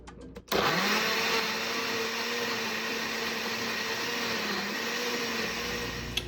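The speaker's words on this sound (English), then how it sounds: "now let's blend" An electric blender starts abruptly and runs at a steady high whir, blending an avocado Bloody Maria drink up close, with a brief motor shift near the end.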